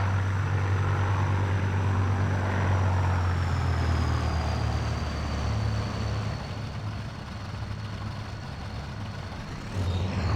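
Heinkel He-177 bomber taxiing in the IL-2 1946 flight simulator: a loud, steady engine drone with deep propeller rumble and a faint whine, continuous throughout with no voices.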